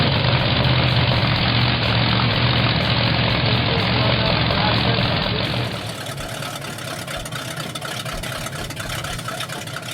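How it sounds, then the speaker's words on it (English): Drag racing cars warm up and idle at a drag strip, a loud, steady engine rumble filling the air, dropping slightly in level partway through and continuing without any talk. "The cars have been warming up and ready to put on a good show."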